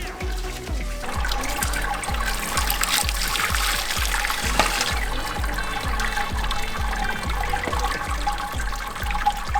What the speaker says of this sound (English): we're going to sparge up to the 29 litre mark on our Robo.